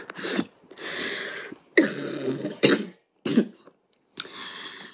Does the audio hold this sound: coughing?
yes